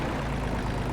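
Antonio Carraro tractor engine in Farming Simulator 22 running at a steady, dense drone with no break.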